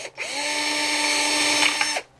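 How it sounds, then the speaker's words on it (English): A power drill with a 9/64 bit bores holes in a laser-cut part for a helical antenna, one steady loud whine that spins up, holds for nearly two seconds and cuts off, with no talk. "I am going to drill out the holes that we've just marked so that those screws will fit"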